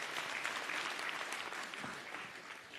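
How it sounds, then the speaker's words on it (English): A summit audience in a hall gives dense, sustained applause, steady and fairly loud throughout, with no voices rising above it. "Please give yourselves a very big round of applause"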